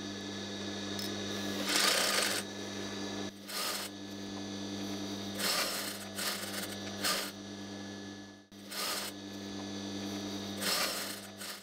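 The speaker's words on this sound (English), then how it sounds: "and we're sewing." A sewing machine stitches a curtain seam in repeated bursts of mechanical whirring, separated by short pauses over a steady electrical hum, close and clear with no talking.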